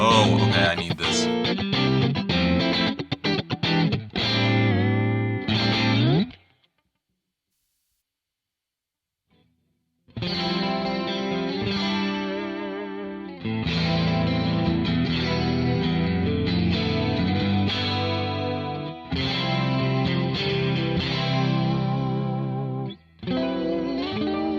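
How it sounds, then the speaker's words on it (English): Electric guitar with a chorus effect pedal plays shimmering, wavering chords and notes, loud and close, stopping for a few seconds of silence before resuming. "that's a chorus"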